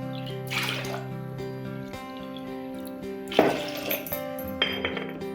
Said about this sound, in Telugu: ఇప్పుడు దీంట్లో ఒక 3 గ్లాసులు నీళ్ళు పోసుకోవాలి.